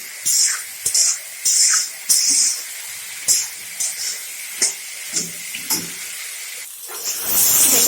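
Vegetables with chopped ginger, carrot and potato, fry in a pan, giving loud intermittent bursts of sizzling hiss broken by short stirring scrapes, close by with no talk.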